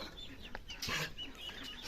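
Faint peeping and clucking of chicks and ducks outdoors, soft bird calls scattered over a quiet background hum.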